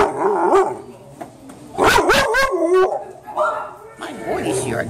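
A dog barks and whimpers in short yips and whines, close by, mixed with a person's affectionate talk.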